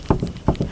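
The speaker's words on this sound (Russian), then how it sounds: "Стучит крышка багажника при проезде неровностей, щелчки какие-то происходят такие по кузову." Trunk lid struts on a Skoda Rapid knock as they are worked by hand. Two pairs of dull, close knocks fall in a quick, even rhythm, with no voices.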